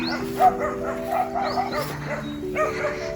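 Dogs bark repeatedly at a farm lot property in Macalelon, Quezon, near a tenant's house, with fairly close, steady yapping and a few whimpers over outdoor background noise.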